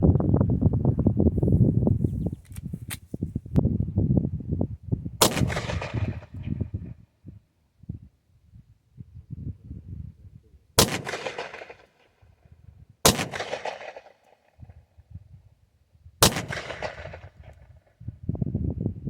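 Four sharp, loud shots from a Taurus G2C pistol chambered in .40 S&W, spaced a few seconds apart at an outdoor range, each with a quick ringing decay, after a stretch of low rumbling handling noise.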